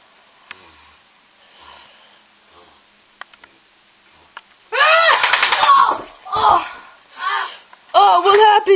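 Gunfire in a war video game: a few faint clicks and sparse single shots over near silence, then loud, sustained bursts of rapid automatic fire in the second half, with a voice speaking.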